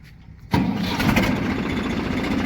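After a quiet moment, a tractor engine cranks and roars to life, then settles into a loud, steady idle close by.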